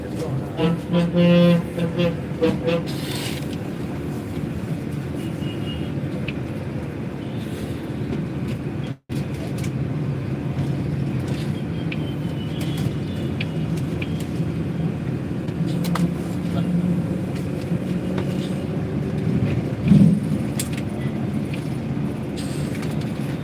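A traffic jam in Chennai city sets up a continuous dense roar of idling and creeping engines, with long vehicle horn blasts sounding over it and a loud thump near the end.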